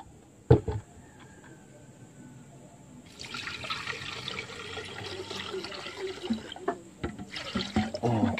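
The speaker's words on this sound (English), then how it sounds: "First, I'm going to put in the water." Water pours steadily into a blender jar after a few knocks and clunks, a rushing stream running for several seconds, with no one talking.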